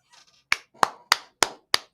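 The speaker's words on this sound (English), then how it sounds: "Give him a round of applause." Five sharp, evenly spaced claps ring out alone after a few faint soft taps, like a brief, sparse round of applause from a single person nearby.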